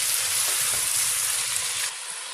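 Chicken pieces fry in a hot pan for an Eid chicken korma, a loud continuous bright sizzle that drops slightly near the end, with no voices.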